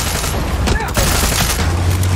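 Rapid gunfire bursts in Far Cry 6 while driving a vehicle, dense and loud under a steady engine rumble, with raised voices talking over the shooting.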